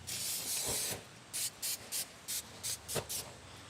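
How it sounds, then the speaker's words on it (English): One longer hiss of cooking oil spray onto the grill grate of a portable fire pit, then a rapid series of short, close spritzes in an uneven rhythm, quiet and with no talking. "we're gonna spray it with a little bit of oil"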